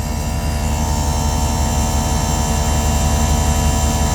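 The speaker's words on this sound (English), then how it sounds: "The air compressor" An Extreme Aire Magnum onboard air compressor runs steadily, a loud, close, continuous motor drone with a dense buzzing hum and no breaks.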